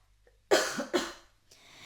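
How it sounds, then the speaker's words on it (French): A woman with a cold coughs twice in quick succession, close and fairly loud, followed by a short throat-clearing breath. "je vais tousser"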